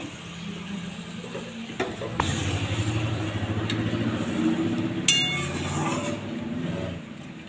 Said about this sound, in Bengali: মশলাটা খুব সুন্দর কষে গেছে এবার আমি সামান্য জল দিয়ে দেবো মশলাতে